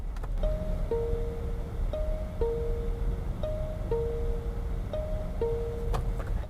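A BYD Dolphin electric car's left turn-signal chime repeats a soft two-note tone about four times at a steady rhythm over a quiet, low cabin hum.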